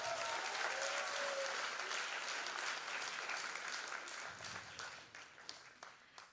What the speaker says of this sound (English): Let's cheer them on by giving another big round of applause.